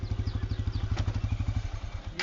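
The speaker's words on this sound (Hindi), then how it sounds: "मैंने स्टार्ट की बाइक, ठीक है।" A TVS Apache 160 2V BS6 motorcycle idles with a steady, rapid low chugging thump close by, then the engine cuts out abruptly near the end as it stalls after being taken off its stand.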